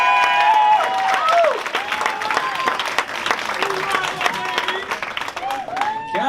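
A comedy club audience applauds and cheers for a stand-up comedian coming to the stage, loud dense clapping that fades into a voice talking over the room.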